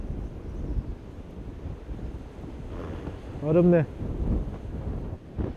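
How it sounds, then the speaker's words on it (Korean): Strong wind buffets the microphone at a seaside sea bass fishing spot, a steady rough rumble with surf beneath, briefly broken by a short voice. "바람이 엄청나게 세네"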